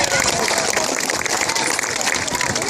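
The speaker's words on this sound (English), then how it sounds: "So let's give her a massive round of applause." Zoo spectators at a sea lion show at Blackpool Zoo give a round of applause, a busy crowd clapping that stays steady throughout while a voice talks over it.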